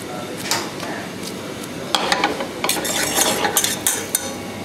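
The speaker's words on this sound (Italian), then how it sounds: "facciamo legare la pasta con un poco di aglio olio profumato all'aglio" Pasta tossed in a pan with garlic-scented olive oil, giving scraping stirs and metallic clinks that grow busier partway through, in a restaurant kitchen in Milan.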